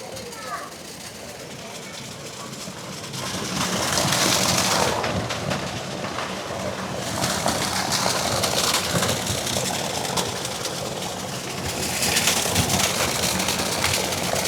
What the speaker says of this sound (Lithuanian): Va, instaliacija, lyja lietus viduje.